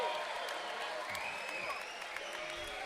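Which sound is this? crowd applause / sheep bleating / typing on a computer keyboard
crowd applause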